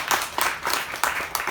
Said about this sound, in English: I wish we should clap for her again.